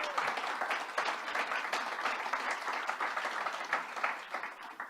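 An audience at a press event with New York's governor applauds steadily, a dense wash of many hands clapping that holds for several seconds without any speech.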